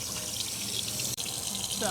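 Water gushes steadily from a campground spigot while the line is flushed, a close, continuous splashing rush with a voice faintly underneath.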